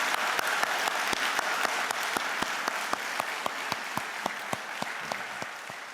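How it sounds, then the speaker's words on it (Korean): A church congregation at an early-morning worship service claps together in a steady, even rhythm, the sharp claps landing at regular intervals throughout. "우리 뜨거운 박수를 다시 한번 보내드리겠습니다."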